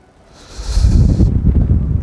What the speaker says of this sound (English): Oh my word, it's windy.